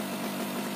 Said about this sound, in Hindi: तो यहाँ पर बाइक स्टार्ट हो चुकी है